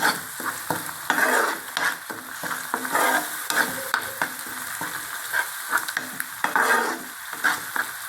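Salted onions and spices are stirred in a sizzling pan for a bitter gourd gravy, with a soft continuous fry under a rhythmic series of close spatula scrapes and taps against the pan.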